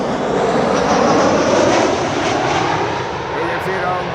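A three-year-old Corendon airliner, registration EC-NTB, arrives at Amsterdam Schiphol from Willemstad, Curaçao, with a loud, steady, broadband engine roar that holds evenly throughout.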